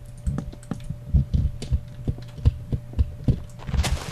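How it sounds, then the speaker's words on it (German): Rapid clacking of keys on a Microsoft computer keyboard, close and fairly loud, with irregular bursts of keystrokes over a low steady hum. "Wie du auf deinen Tasten rumhackst."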